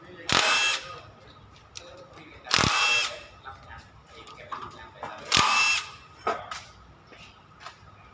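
Nuts on the engine cover of a Kubota RT110 tractor being undone with a power tool, three loud bursts of whirring separated by quieter clinks and handling noises, close by.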